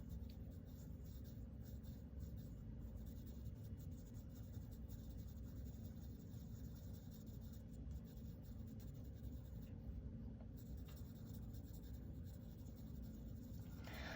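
Pencil shading on paper while building up values in fine rendering: a soft, steady graphite scratching that runs continuously with even strokes, close and quiet, with no talk.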